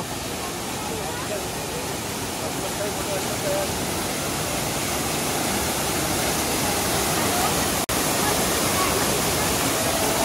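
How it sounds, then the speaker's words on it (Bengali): A waterfall at Rock Garden in Darjeeling, heard close up as a loud, dense, steady roar of falling water that continues unbroken throughout. "আর হচ্ছে এদিকে ঝর্ণা পড়ছে"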